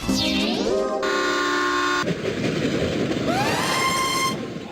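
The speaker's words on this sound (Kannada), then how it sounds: "ಟ್ರೈನ್ ಕೂಗಿದ್ ಕೇಳಿಸ್ತೇನಾ?" A train's whistle sounds in long sustained tones that shift in pitch, over a loud rumbling rail noise throughout.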